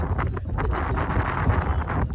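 Strong wind blows outdoors in a steady, loud buffeting roar across the microphone, gusting and rustling, with no talking.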